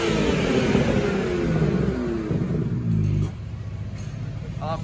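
BMW biturbo engine with a diffuser and full stainless open exhaust revving hard: a loud, close, steady roar that eases slightly partway through, then settles into a lower drone.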